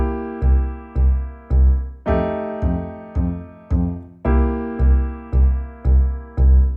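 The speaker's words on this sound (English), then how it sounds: "The most basic bass pattern, level 1, would just be to play the root notes every beat of the bar." Bass guitar plays root notes on every beat of a C blues progression, four steady plucked notes per bar with the pitch shifting at bar changes, loud and alone with no talking.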